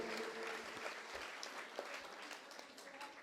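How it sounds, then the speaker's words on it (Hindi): An audience at a Hindi religious discourse claps steadily for a few seconds. The applause is faint and distant, with scattered louder claps standing out. "ताली बजाकर इनका अभिवादन करें।"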